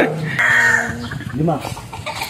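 Yellow Legged Dutch chickens on a farm cluck and squawk up close, with a drawn-out call early on and choppy clucks after, over people talking.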